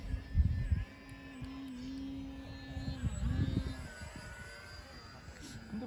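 An XANE 50mm ducted fan RC model jet, an MB-339 Aermacchi, whines past in flight at moderate distance, its steady tone rising and falling under outdoor wind noise.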